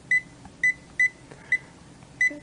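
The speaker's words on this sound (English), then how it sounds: "And it's beeping." A multimeter beeps: five short, clear high tones at roughly half-second intervals, close and distinct against a quiet background.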